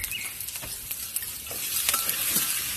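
Onions sizzle in a pan over a mountain cooking fire, stirred with scraping, pattering strokes, close and steady, no voices.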